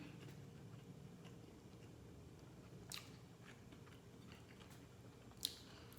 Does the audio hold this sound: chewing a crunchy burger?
yes